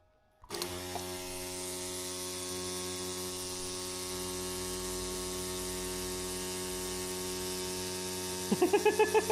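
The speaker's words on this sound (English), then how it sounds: "I will change this motor. Oh, I'll move this motor somewhere where it's quieter." A loud motor switches on nearby and runs with a steady, intense humming drone, then a brief rapid pulsing chatter toward the end, with no talking.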